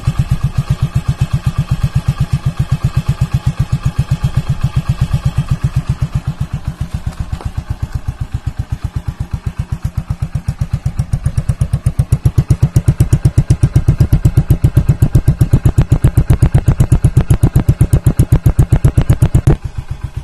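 A Hero Honda Splendor motorcycle engine idles steadily and close up, its rapid even exhaust pulses and light mechanical clatter continuing throughout with no talk.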